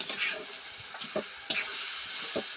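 Egg and mixed vegetables sizzle in a pan, a steady hiss broken by a few scraping stirs and clinks of a utensil, close and without talk.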